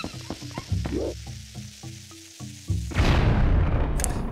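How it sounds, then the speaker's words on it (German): Creatures explode in Zelda: Twilight Princess, with short crackling, sizzling pops and low thumps in quick succession, then a louder, sustained fizzing burst near the end. "Das können die Viecher. Die können explodieren."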